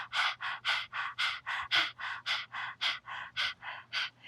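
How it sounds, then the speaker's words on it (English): Rapid, rhythmic panting with the tongue out during a Kundalini yoga Breath of Fire practice, about fourteen even, breathy puffs in steady succession, close and clear with no talking. "Stick the tongue out and start panting."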